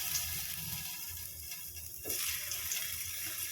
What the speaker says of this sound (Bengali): এভাবে একটা একটা করে হালকা করে ভেজে নেব।